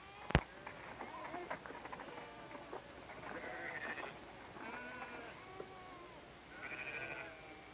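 Several sheep and goats bleat repeatedly at moderate distance in the Himalayan highlands of India, overlapping calls with a sharp knock early on and a quiet outdoor background.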